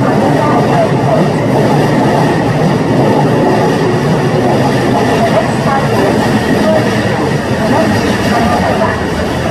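A Keikyu train pulls into Yokohama station as a steady, loud rumble of rolling wheels and carriages fills the platform, with faint announcements beneath.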